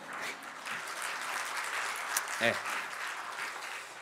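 Steady applause from a church congregation fills the room, a dense patter of clapping that carries on evenly throughout.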